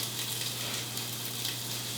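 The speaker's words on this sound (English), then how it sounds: "Ooh, sizzling!" Italian sausage sizzles steadily in a frying pan, a faint, even hiss of frying fat with no voices over it.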